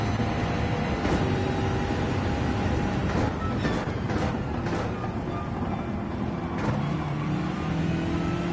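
Racing cars in the Gran Turismo video game roar continuously at high revs as one slips out of another's slipstream and passes, a loud sustained engine drone with no speech over it.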